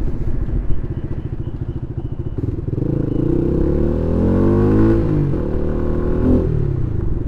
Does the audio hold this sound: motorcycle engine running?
yes